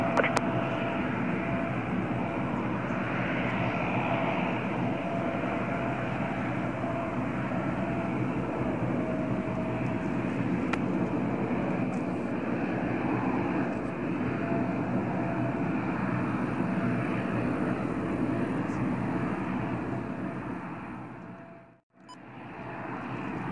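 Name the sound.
small propeller plane landing at Calgary airport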